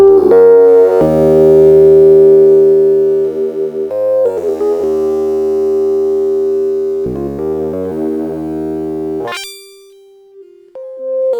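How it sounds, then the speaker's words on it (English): A buzzy, twangy sustained instrument tone shaped by a Surfer EQ 2 filter plays held notes and short phrases, its resonant sitar-like timbre filtered, ending in a brief rising sweep. "There we go, sitar."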